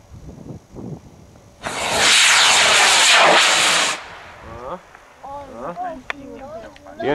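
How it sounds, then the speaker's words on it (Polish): A model rocket motor at a meteor-rocketry festival in Toruń roars into a loud, broad hiss for about two seconds, wavering unevenly, with spectators talking before and after the burn. "Nierówna praca silnika."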